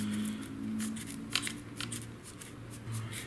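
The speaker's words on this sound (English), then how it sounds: "take your nice decent pair of scissors and slowly saw through it." Scissors saw through a cord in repeated short, crisp snips and scrapes, close to the microphone, with a low steady hum underneath.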